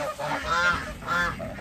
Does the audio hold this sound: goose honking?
yes